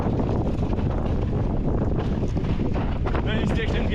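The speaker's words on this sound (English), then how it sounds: "the wind's picked up a bit" Wind roars steadily across the microphone during a fast downhill mountain bike ride on a steep trail, loud and constant for the whole stretch, with no talking.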